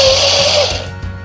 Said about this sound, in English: I'm gonna start blending everything together now